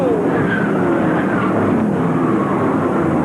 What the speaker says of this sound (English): And a spin and a crash